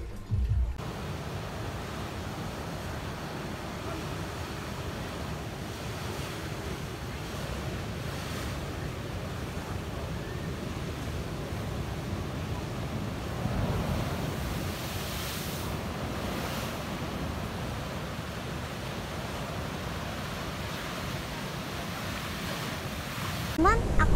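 Ocean surf and wind at Eco Beach in Canggu, Bali make a steady, loud wash of waves breaking with gusty wind noise on the microphone, continuous and unbroken throughout.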